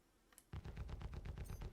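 Pilot guns on a ship in a space combat game fire a rapid, evenly spaced burst of sharp mechanical shots, close and punchy, with a faint electronic beep near the end.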